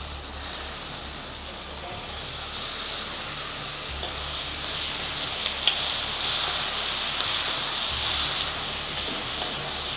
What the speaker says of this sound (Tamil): இப்போ தக்காளி போடுறோம் இப்போ தக்காளி ஒரு நூறு கிராம் கட் பண்ணி வச்சதும் போடுங்க